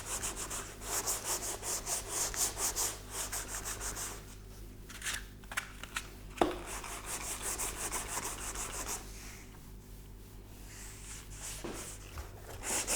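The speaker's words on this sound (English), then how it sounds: "after I'm done sanding all of these" Hand sanding of filler and primer on a car body panel, a rhythmic dry rubbing scrape in bursts with short pauses, close and fairly quiet.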